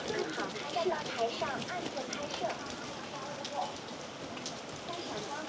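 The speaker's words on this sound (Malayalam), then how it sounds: "കനത്ത മഴയാണ് ഇവിടെ, അതുപോലെ തന്നെ കനത്ത കോടമഞ്ഞ്" Heavy rain pours steadily in thick fog at Zhangjiajie Grand Canyon, a dense, even hiss of drops hitting surfaces close by with scattered louder patters, while people talk faintly underneath.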